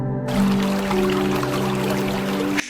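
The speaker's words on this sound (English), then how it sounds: "In the mountain's rift valley, the Guan water bursts forth from the stone." Water gushing forth from stone in a mountain rift valley, a steady loud rushing pour that holds constant and then cuts off abruptly.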